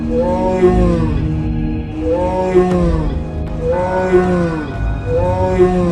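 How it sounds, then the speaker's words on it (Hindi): A cartoon buffalo bellows at a lion in repeated loud roaring calls, four drawn-out swells in a steady rhythm, close and alone. "चंपा शेर के सामने आकर सींग उछलकर दहाड़ने लगा"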